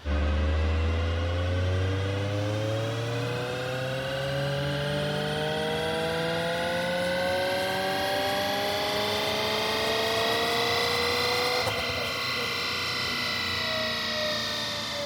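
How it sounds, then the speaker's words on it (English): A Toyota GR86 fitted with an HKS turbocharger runs a dyno pull, its engine note climbing steadily in pitch for a sustained, loud run with no talking. "We dynoed this turbocharger setup."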